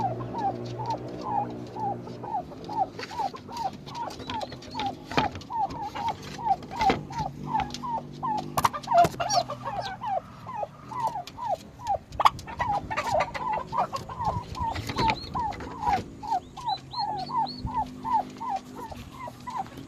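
A flock of young turkey poults and chickens peep and call nonstop in rapid, repeated chirps, fairly close, with occasional louder squawks and clicks among the steady chatter.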